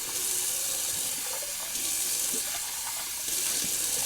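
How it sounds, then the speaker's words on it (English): Cold water running steadily from a bathroom sink tap, a continuous close splashing hiss heard alone for about four seconds with slight surges in flow. "Go for some of that nice cold water."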